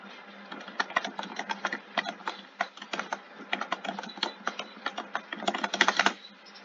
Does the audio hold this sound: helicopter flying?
no